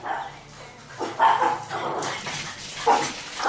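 Excited dogs barking in a home, several sharp close barks and yips bursting out in irregular clusters, loud and near, with no talk over them.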